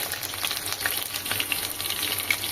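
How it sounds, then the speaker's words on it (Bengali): Thinly sliced potatoes frying in hot oil for a vegetarian okra and potato curry, giving a bright, continuous crackling sizzle with a few stirring scrapes, close up and with no voices. "তারপরে যে পাতলা পাতলা করে আলুগুলো কেটে রেখেছি, সেই আলুগুলো দিয়ে ভেজে নেব"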